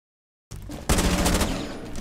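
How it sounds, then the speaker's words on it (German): Gunfire in Rainbow Six Siege, a shot fired through a barricade, bursts in loud and close after a short silence and rolls on as a dense, sustained crackle of shots. "Dieser Schuss gerade, dieser Shot gerade, war durch eine Barrikade."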